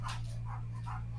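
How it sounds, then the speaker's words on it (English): A dog in a home setting gives a few muffled barks and yips, faint and somewhat distant, over a steady low electrical hum. "I hear a dog."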